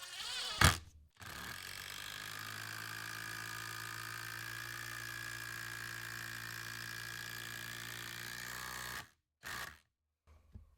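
A Festool impact driver sinks an 8-inch 3/8 GRK screw into wood, a sustained close buzzing hammer rattle of about eight seconds, framed by a couple of short knocks before and after, with no talking.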